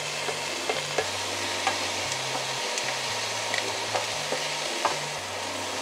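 Ham sizzles and crackles in a pan of butter with garlic and onion, a steady close frying hiss broken by regular clinks and scrapes of stirring, with no talking.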